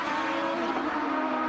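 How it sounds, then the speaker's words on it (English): Champ Car race car tires squeal under load during 2006 qualifying in Monterrey, Mexico, a loud continuous screech blended with engine roar that holds steady throughout. "You'll certainly hear some tire squeal"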